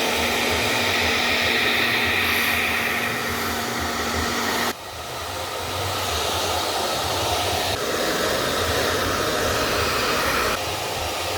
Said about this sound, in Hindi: और अपना हेयर ड्रायर रेडी है।